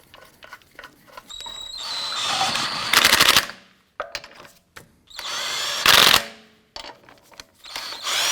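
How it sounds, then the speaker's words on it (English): An impact wrench drives wheel lug nuts onto an Acura TL in a garage, loud rattling bursts separated by pauses with clicks and handling noise between them, and no talking. "Get our lug nuts all started by hand first, and then we'll snug those down."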